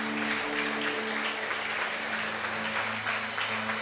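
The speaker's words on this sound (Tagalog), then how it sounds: "Minsan pa natin bigyan ng isang malakas sa palakpak si Lord." A congregation gives sustained, energetic applause during a church worship service, dense steady clapping filling the room, with a low organ or keyboard tone held underneath.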